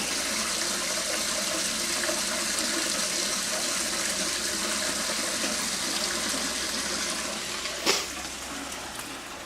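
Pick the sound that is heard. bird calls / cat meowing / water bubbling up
water bubbling up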